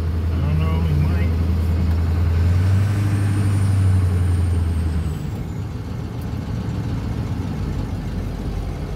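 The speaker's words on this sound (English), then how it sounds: "Sounds good idling normal, though." A flatbed truck's engine idles with a steady low diesel rumble, loud and close; a brief whine fades out partway through, leaving the rough idle running alone.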